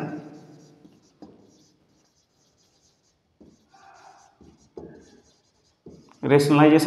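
Chalk or marker scratches across a board in short, intermittent strokes during a maths lecture, alternating with someone speaking in Hindi, and a louder burst of noise comes at the end.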